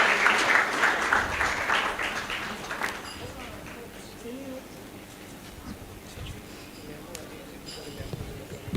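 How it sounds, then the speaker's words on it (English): An award ceremony audience applauds a group of young women winners with brisk, fairly close clapping that peaks over the first three seconds and then trails off into quiet room tone and scattered sounds. "Let's clap for the amazing young ladies."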